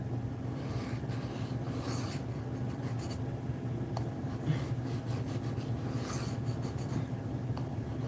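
A knife blade is drawn across a 600 grit sharpening stone, making soft, faint, rhythmic scraping strokes at close range with no talk.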